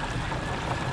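Motorized Hobie Lynx kayak moving across water, a steady low motor drone mixed with rushing water and wind noise, close and constant without speech.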